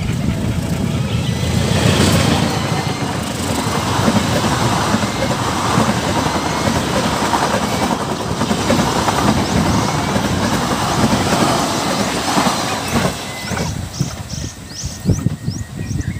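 A steady rumbling rattle of a small toy Thomas train running continuously on its track for many seconds, fairly loud and close, with a few clicks near the end.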